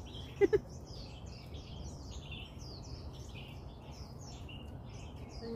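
Birds chirping and calling in a forest on a Lion Rock hike, a busy layer of repeated tweets over a soft ambient hiss, with two brief low clicks near the start.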